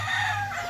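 A gamefowl rooster crows at a Cavite game farm, one sustained, fairly loud call heard up close and alone.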